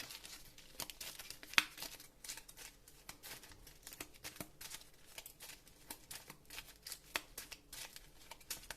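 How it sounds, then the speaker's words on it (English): A deck of game cards for a Marvel Champions card game being shuffled, with soft, rapid riffling and crinkly rustles repeating in close bursts and a few sharper clicks, with no talking. "Shuffle my deck."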